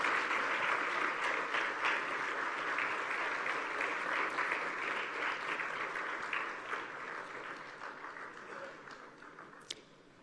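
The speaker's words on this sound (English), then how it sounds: "We can give them a round of applause" Sustained applause from a large crowd at the Commonwealth Women's Forum opening session in Kigali, steady and dense throughout, gradually thinning slightly toward the end.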